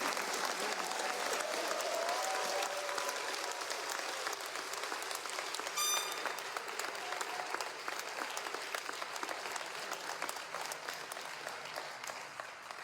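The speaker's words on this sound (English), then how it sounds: "Let's give a round of applause for the Division of Training." Sustained applause from a graduation ceremony audience honoring the Division of Training, a steady dense wash of clapping that fills the whole stretch, thinning slightly toward the end.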